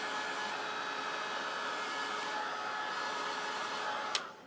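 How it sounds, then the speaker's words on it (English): A heat gun blows steadily over embossing powder as it melts, a continuous airy whirring roar that stays even and close for several seconds, ending with a brief click near the end. "I'm going to heat set it just till it starts to turn shiny"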